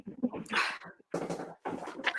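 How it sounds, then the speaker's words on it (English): A puppy whimpers and yips in short, high, whiny bursts, close by, with brief pauses between them, outdoors on a dark, windy night. "Y'all know what it's like having a puppy."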